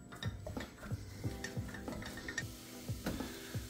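A cooking paste being stirred in a pan, quiet rhythmic scraping and knocks of a spoon against the pan repeating about every third of a second, close and soft.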